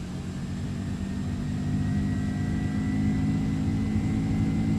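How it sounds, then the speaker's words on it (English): General Electric jet engines on a Boeing 767-300ER in the X-Plane 12 flight simulator give a steady, broad roar that swells slightly as thrust builds and then holds loud and constant. There is no speech. "General Electric engine sounds from the Mango studio."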